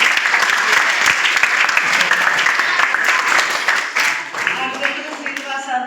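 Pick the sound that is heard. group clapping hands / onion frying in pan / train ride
group clapping hands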